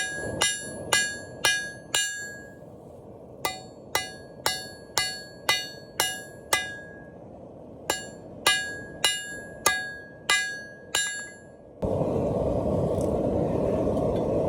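A hammer strikes hot metal while forging bolt tongs, steady ringing blows clanging in quick bursts with short pauses between groups, ending in a loud roaring hiss.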